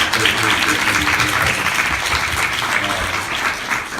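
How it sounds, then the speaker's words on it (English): A live podcast audience at UCSB applauds the organizers, continuous crowd clapping at fairly loud volume with voices talking and cheering mixed in underneath. "y'all should really give them a round of applause for all the work"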